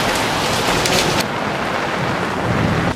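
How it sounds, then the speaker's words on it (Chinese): Heavy rain pours down in a loud, steady, dense rush of noise that eases slightly partway through. "现在下超大雨"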